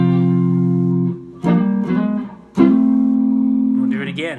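An electric guitar plays a lick, with sustained chordal notes, a couple of sharp re-attacks and ringing decay, loud and close with no talking.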